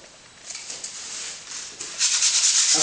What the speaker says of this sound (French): un papier de verre et un rapide ponçage, très léger.